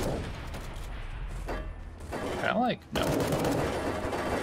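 Gunfire from the video game Fallout: New Vegas, a loud, dense run of shots across most of the stretch, mixed with someone talking over it and a short whistling tone near the middle.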